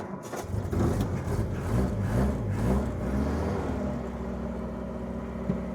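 A Jeep engine being set up for drag and drift turns over in a workshop in Islamabad and settles into a steady rumbling idle, loud and close throughout, with no voices over it.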